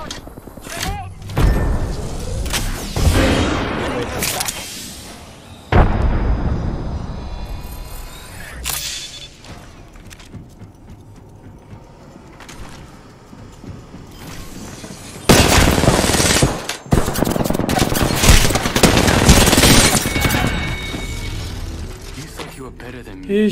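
Gunfire from Apex Legends gameplay comes in repeated rapid bursts and thumps, loud and dense at the start and again later, with quieter stretches between and voices talking over the action.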